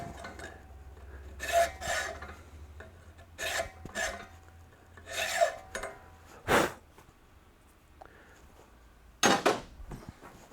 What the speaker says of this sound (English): The groove I'm filing in is just a cast groove.